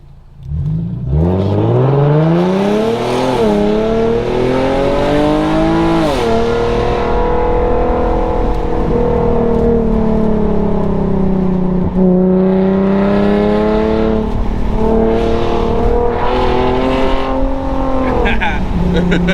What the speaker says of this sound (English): I took off the resonator, got a delete on it, resonator delete.